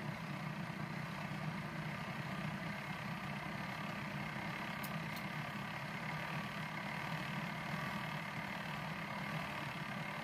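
A peko (piko) sewing machine runs steadily at low volume, a constant even mechanical hum with no clear pauses, heard alone without talk.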